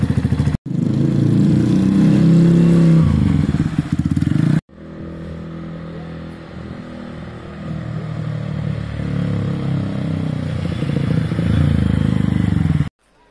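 A Honda CBF125 streetfighter motorcycle on a test run, its engine loud and steady at first, then cutting out briefly and returning at a lower, even drone that continues until it stops near the end.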